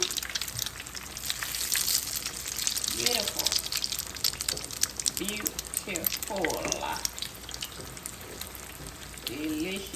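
Eggplant slices fry in a pan with a steady crackling sizzle and occasional pops, close by, while a person talks intermittently over it.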